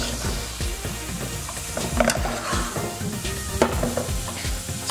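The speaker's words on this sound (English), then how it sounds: "And just stir it up." Vegetables sizzle and fry in a pan while being stirred, with repeated scraping strokes and a steady crackle throughout, close and moderately loud, for a Nigerian meat pie stuffing.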